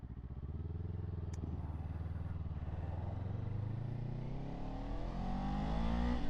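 Motorcycle engine drones steadily while riding on back roads, loud and close with a continuous low rumble that rises in pitch as the rider accelerates near the end, no talking.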